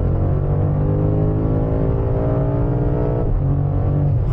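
Sports car accelerating hard on an open road, its engine note climbing steadily through the revs with a loud, continuous rumble and rising harmonics, close and unbroken.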